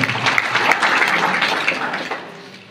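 A school audience applauds teacher S.F. Patil at a function, the clapping dense, loud and sustained, then gradually thinning toward the end.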